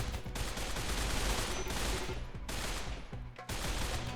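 Dense, continuous gunfire from combat bots and defensive turrets in the colony-survival game Rimworld rattles on without pause, with only brief dips in the volley.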